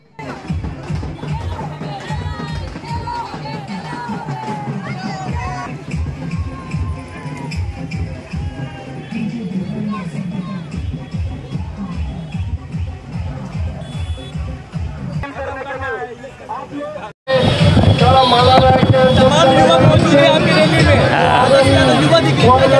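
Dense crowd hubbub at a political road show, a continuous roar of many voices that swells abruptly louder after a brief dip near the end, close and loud throughout.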